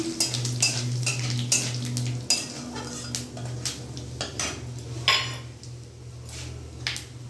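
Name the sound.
cumin and whole garam masala tempering in hot oil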